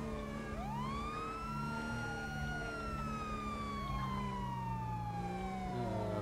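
Ambulance siren wails loudly during an escort, its pitch rising and falling in slow sweeps over a low engine drone, continuous and close.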